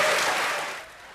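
Audience applause, a dense wash of clapping hands that starts full and fades out over about a second.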